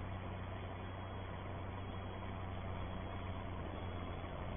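A Ford 7810 tractor idles nearby, a steady, even low engine rumble with a muffled band-limited tone and no variation or talk.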